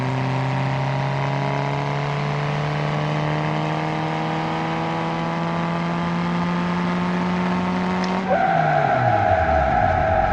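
Car engine in the BeamNG driving game revving steadily at high, rising pitch for about eight seconds, then a sharp shift into loud tire squeal and skidding, with no talk.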